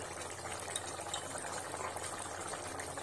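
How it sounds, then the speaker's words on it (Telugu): Mutton curry simmers in a pot with a steady bubbling, hissing boil, close and even throughout, with no voices over it. "ఓకే ఉడుకుతుంది కదా"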